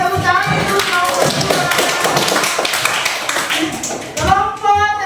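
A classroom of students claps for a presenting group, loud irregular close claps and thumps mixed with overlapping voices, fading briefly before a final burst near the end.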